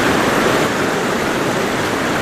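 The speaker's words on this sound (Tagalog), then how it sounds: "bagsak ng tubig dito sa Gampalit Falls" Dampalit Falls in Los Baños, Laguna pours down with reduced flow, a loud continuous broadband roar of falling water with no breaks, close and filling the scene.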